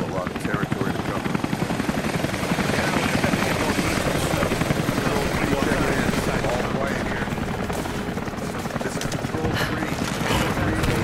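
Helicopter rotor noise from Rise of the Tomb Raider, a steady loud thrumming chop that runs without a break under a dense, busy game soundscape.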